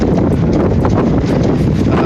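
Strong wind of about 25 to 26 knots roars and buffets the microphone aboard a heeling sailboat, in loud, continuous gusts.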